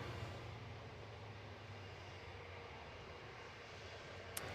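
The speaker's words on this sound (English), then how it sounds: "we have another A321 just taxiing here" An Airbus A321 airliner taxis at Gold Coast Airport, its engines giving a steady, distant broadband roar that holds evenly throughout, with a faint low hum beneath and no voices.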